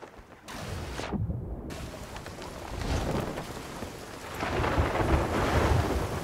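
Heavy rain hisses and patters constantly while thunder rumbles in deep rolling swells during a storm at sea in the video game Sea of Thieves, loud and unbroken, with no voices.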